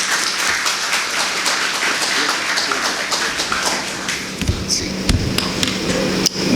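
Audience applause at a Catholic Church panel on the historical significance of a Pastoral Letter, dense steady clapping filling the hall, with a few louder thuds near the end.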